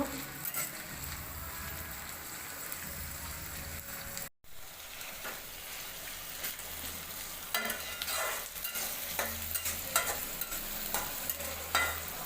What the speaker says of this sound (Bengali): এখন পেঁয়াজটা ভালো করে লাল লাল করে ভেজে নেব।